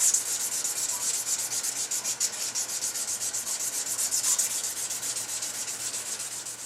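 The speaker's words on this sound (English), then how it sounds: "that's pretty much the process for polishing a barrel and prepping it for bluing" A shotgun barrel being hand-polished before bluing gives a rapid, rhythmic rubbing rasp of steady back-and-forth strokes, close and bright, with no talking.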